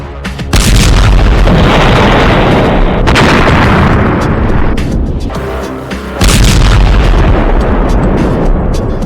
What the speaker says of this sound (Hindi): हमास के लड़ाके इजरायल के उस बुलडोजर को धमाके से उड़ा रहे हैं